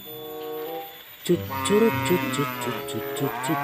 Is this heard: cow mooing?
yes